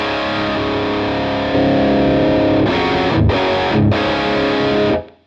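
Distorted electric guitar through a TwoNotes Cab M with power amp simulation switched off, loud sustained chords ringing out alone, then a few choppy muted strums before cutting off.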